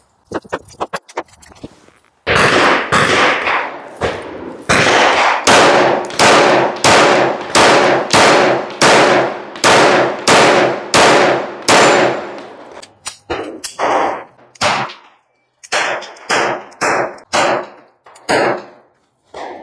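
A PSA Dagger Compact pistol with a Herrington Arms compensator fires rapid strings of sharp, loud gunshots, a dense volley of about a dozen quick reports followed by scattered shots and distant pops, each ringing briefly at close range.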